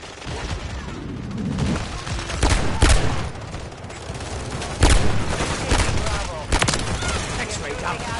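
Rapid bursts of automatic gunfire and sharp single shots in the Call of Duty Modern Warfare 3 video game, loud and close, repeated in clusters over a steady battle din with a voice speaking at times.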